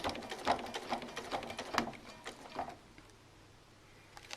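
A sewing machine stitches a quilt sash join, a close, quiet run of rapid rhythmic needle clatter with a few louder knocks, then stopping into near silence.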